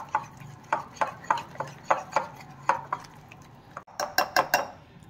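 Gram flour batter for spinach pakoda being whisked in a bowl, a rapid series of sharp utensil taps and scrapes against the container, close and clear with a brief pause near the end.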